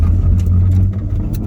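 An electric-converted Heinkel bubble car pulls away, its motor and tyres giving a steady, close, low rumble for the whole stretch with no break.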